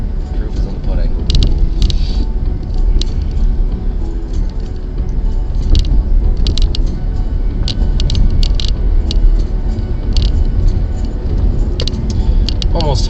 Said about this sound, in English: I've been driving back from a town that's about a half hour away.